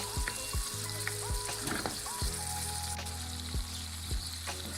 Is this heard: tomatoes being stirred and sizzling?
yes